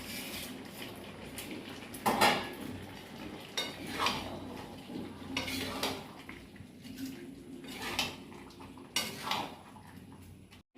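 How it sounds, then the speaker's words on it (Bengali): Papad pieces being stirred into papaya curry in a pan, a spoon scraping and clinking against the metal in repeated irregular strokes, close and moderately loud with no talk. "পাঁপড়গুলো ভালো করে মিশিয়ে দিচ্ছি"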